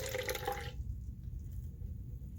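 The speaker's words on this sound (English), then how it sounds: "Pour the citric acid" Citric acid solution poured from a measure into a styrofoam coffee cup inside a large beaker in a chemistry lab, a short close splashing pour of under a second that stops abruptly, leaving quiet low hum.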